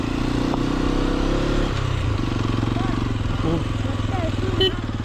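A Hero XPulse 210 motorcycle on an off-road trail up to the Malleshwara hill temple, its engine droning loud and near as it shifts pitch over rough ground, with a brief clatter and some talking over it.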